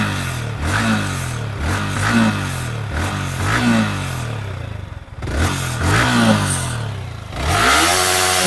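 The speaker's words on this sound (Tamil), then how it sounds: "இந்த பைக்கோட சவுண்ட் என்ன மாதிரி இருக்குன்னு பாத்துடலாங்க" A Yamaha R15 V3 motorcycle engine revs repeatedly, several sharp blips rising and falling over a clattery idle, with a brief dip before a final sustained rev, close and loud with no talk.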